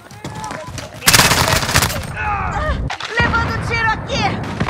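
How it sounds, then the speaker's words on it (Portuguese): Rapid gunfire and heavy bursts in Call of Duty: Modern Warfare, loud and close, with dense automatic volleys mixed with shouted voices in the game. "Levando tiro aqui!"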